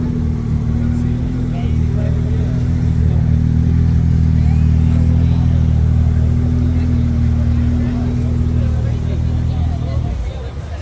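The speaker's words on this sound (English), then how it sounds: "We got a nice Porsche coming in." A Porsche pulls in at a cars and coffee show, its engine a loud steady low drone close by for several seconds before easing off, with crowd chatter mixed underneath.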